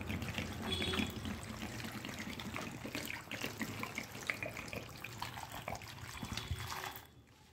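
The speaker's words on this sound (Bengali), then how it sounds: "সেই টমেটোটাকে আমি ভালো করে ধুয়ে নিচ্ছি" Tap water runs steadily over tomatoes being washed, a close, continuous splashing and trickling with small knocks of fruit against the sink, quiet and without speech until it stops at the end.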